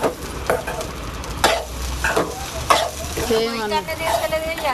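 Food frying in a pan alongside egg rice, with a close sizzle, scraping stir strokes at intervals and a voice speaking briefly near the end.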